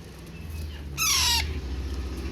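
A young Alexandrine parakeet chick gives a single loud, harsh squawk of about half a second, with a rising then falling tone, over a low hum and faint background noise.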